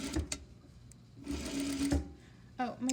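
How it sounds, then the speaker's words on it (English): Sewing machine stitching along a fabric seam with short backstitches, bursts of needle chatter starting and stopping close to the microphone, with a few soft handling sounds between runs. "I'm going to try to sew to the next pin."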